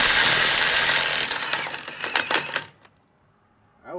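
A Milwaukee Fuel 1/2-inch impact wrench on lug nuts runs loudly, then breaks into a quick series of sharp hammering rattles before cutting off, followed by brief silence.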